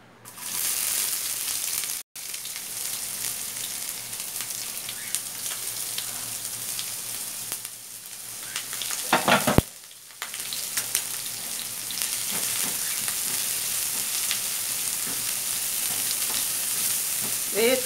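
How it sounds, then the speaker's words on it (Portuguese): Chopped onion sizzles and crackles in hot oil with bean seasoning in a pan, a continuous close frying hiss with brief pauses and a burst of stirring or spattering midway. "Eu vou colocar aqui o tempero do feijão. Vou botar a cebola."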